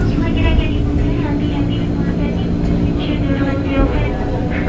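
A KRL commuter train on the Depok to Pasar Senen route pulls into Jatinegara station, a steady loud rumble and rolling roar filling the carriage while a voice talks over it.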